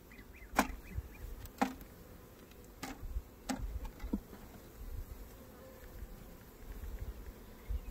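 Faint low buzzing of honey bees in a cutout hive, with soft scattered clicks and taps of frames being handled nearby, quiet throughout and no voices.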